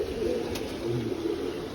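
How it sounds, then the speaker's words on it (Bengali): Madrasi pigeons coo softly in a home loft, a brief low murmur under faint background noise. "একজোড়া আবলোক পায়রা দেখুন, ম্যাগনেটের ঘর থেকে বের হয়েছে আবলোক"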